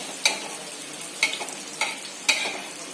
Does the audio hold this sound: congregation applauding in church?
no